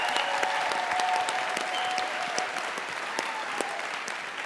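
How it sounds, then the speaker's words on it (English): Audience at a 2018 single-parent scholarship fund event applauds warmly, a thick, even wash of clapping from many people that stays loud and slowly eases, with scattered individual claps popping out. "so big round of applause"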